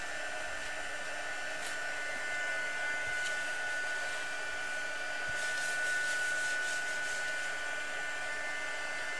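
Hair dryer blowing steadily to dry brusho paint, a continuous close whooshing hum with a faint whine that holds unchanged throughout.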